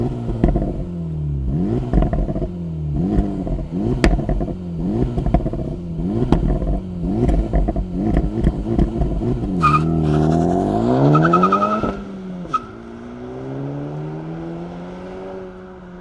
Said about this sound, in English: let's fire up this Type S and hear what it sounds like.